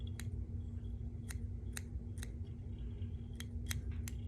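Scissors trimming the skirt of a green crappie jig make about ten sharp, quiet snips at uneven intervals over a low steady hum, with no talk.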